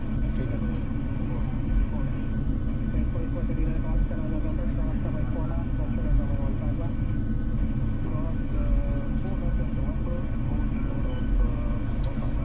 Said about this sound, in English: This is a plane going right now.